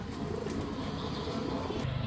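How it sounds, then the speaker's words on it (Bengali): Racer pigeons coo in a low, continuous murmur, their soft throaty calls overlapping steadily and close by, with no one speaking. "2 জোড়া সবজি রেসার কবুতর"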